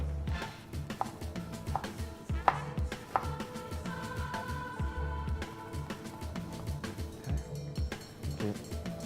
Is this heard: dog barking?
no